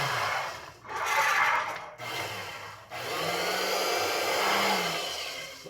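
A powerful disc cutting machine slices through layered fabric, its motor whirring steadily with a low hum beneath a broad rasping hiss that swells and dips in three close, loud passes with brief pauses between, no voices.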